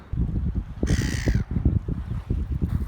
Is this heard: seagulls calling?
yes